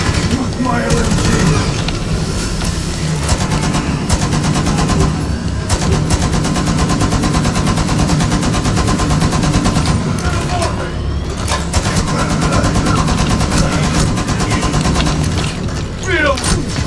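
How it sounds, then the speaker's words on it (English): Sustained automatic gunfire from a light machine gun in the Rainbow Six Extraction video game, loud and continuous with dense rapid bursts, layered with explosions and game effects throughout. "Use my LMG."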